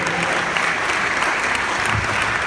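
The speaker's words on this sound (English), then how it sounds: "A round of applause for them." An audience at a youth empowerment programme event gives a round of applause, with dense, even clapping that stays loud and continuous throughout.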